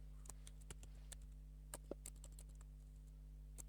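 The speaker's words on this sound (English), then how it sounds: "It helps to type properly." Typing on a computer keyboard, a quick irregular run of soft clicking keystrokes over a low steady electrical hum, close and quiet with no talking.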